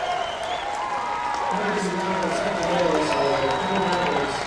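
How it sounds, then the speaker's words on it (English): Fans of Coon Rapids at a high school baseball championship game stand and applaud, a steady outdoor wash of clapping and crowd noise heard under voices talking throughout. "the fans from Coon Rapids standing and applauding the efforts here"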